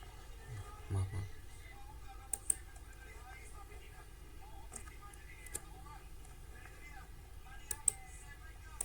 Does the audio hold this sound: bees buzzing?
no